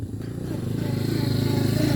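A Yamaha SZ/FZ 150 motorcycle's electric starter motor whirs close by, a steady rapid pulsing drone that builds slightly in intensity over two seconds.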